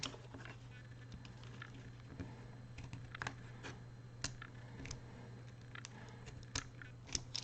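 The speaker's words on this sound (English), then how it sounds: "So I can score again now I've bent that, and that'll cut further deeper into it." A hobby knife scores a plastic sheet for a kitbash model, making faint, quick scratchy strokes and small ticks over a low steady hum, quiet and close.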